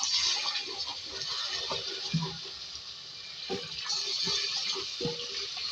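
Water is poured into a pan while cooking aloo baingan, giving a steady splashing pour with faint clinks and sizzles underneath, fairly close and without talk.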